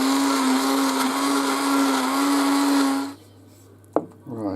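A blender blending leek and potato soup whirs loudly and steadily for about three seconds, then cuts off, followed by a brief clunk and some light rustling.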